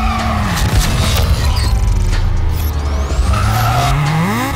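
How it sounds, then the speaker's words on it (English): A loud BMW M4 engine with a titanium Valvetronic cat-back exhaust revs and roars with tires squealing, the exhaust note rising and falling up close. "we have a Valvetronic cat back exhaust, titanium. That's why it sounds so good."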